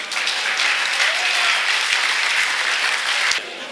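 Audience applause at an Urdu and Pashto poetry gathering, a dense steady patter of many hands clapping for about three seconds before cutting off abruptly.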